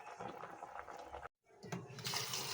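Water running over a pork leg (pata) being washed in a sink, a quiet splashing and trickling stream that stops briefly and resumes, faint and close.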